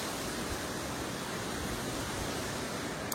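A small waterfall produces a steady, even rush of falling water. It sounds faint and constant throughout, with no voices.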